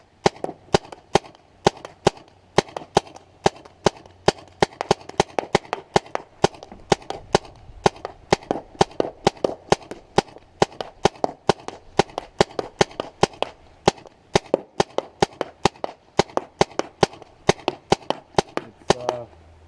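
A paintball marker fires frozen paintballs at a cardboard box in a long run of sharp, evenly spaced pops at close range, roughly two to three shots per second, with faint thuds of impact and no talk.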